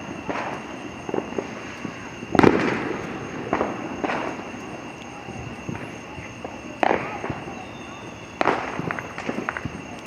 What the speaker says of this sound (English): it is crazy how many fireworks we got going